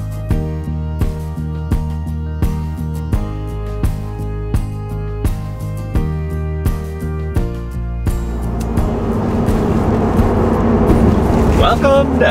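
An RV heads down the highway toward Tucson, Arizona; rhythmic music plays for the first eight seconds, then a steady, broad road rumble swells and carries to the end.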